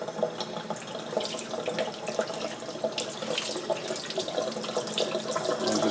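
Water runs steadily from a kitchen tap over a whole raw chicken being rinsed and rubbed inside and out, a continuous close splashing with small irregular spatters and no talk.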